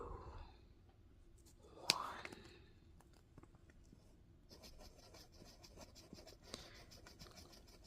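A pencil scratches faint marks onto paper in a quiet room, with soft, rasping strokes that grow busier toward the end.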